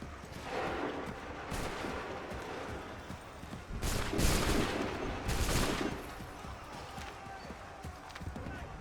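Musket gunfire in Assassin's Creed III, a ragged volley of shots crackling over several seconds with a louder burst in the middle, amid battle noise and shouted orders.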